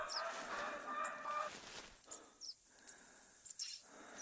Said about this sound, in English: There's more turkeys calling.